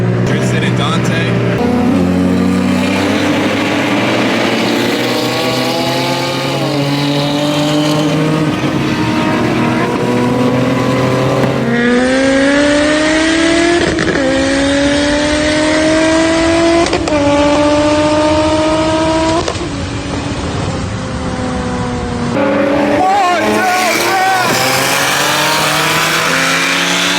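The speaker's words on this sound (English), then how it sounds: "once he like fully goes on the throttle, you'll be able to hear the different exhaust note" A single-turbo BMW M3 at full throttle, with a loud, rising exhaust and engine tone that climbs through several gear changes, each shift dropping the pitch before it revs up again, heard from close by with voices talking over it.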